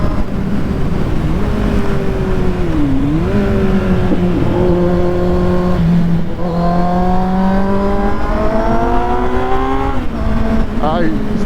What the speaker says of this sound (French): Parce que la moto on s'en rend pas compte, on a fait vraiment beaucoup de bruit.